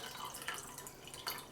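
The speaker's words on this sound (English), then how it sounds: "Then you're going to add some water" Water poured into a glass of vegetable oil, heard as faint, close trickling drips and small splashes over a quiet hiss.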